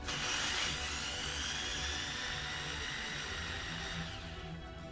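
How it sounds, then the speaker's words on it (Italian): Small electric hand drill with a 0.3 bit boring a hole while making a vibrating spoon fishing lure, a steady high whine running continuously, then slowing slightly near the end. "foriamo."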